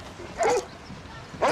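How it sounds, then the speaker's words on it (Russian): A South African Boerboel barks twice in short, gruff bursts against a low background murmur. "Хорошая у вас собачка. Что за порода?"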